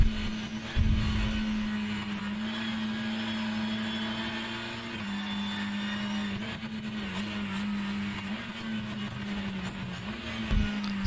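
A touring car engine in rFactor 2 drones steadily at high revs, its pitch wavering slightly as it shifts, with a couple of low thumps.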